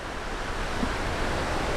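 Ocean surf rolls onto a beach on the Atlantic coast of the North Carolina Outer Banks, a steady broad wash of breaking waves mixed with wind, with no one talking.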